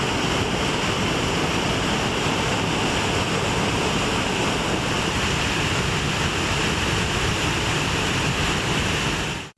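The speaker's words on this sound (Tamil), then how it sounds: "மேகமலை அருவியில் கடுமையான வெள்ளப்பெருக்கு ஏற்பட்டுள்ளது" Floodwater roars over Megamalai waterfall in the Western Ghats after heavy monsoon rain, a dense, steady broadband rush that stays loud and continuous throughout with no voices.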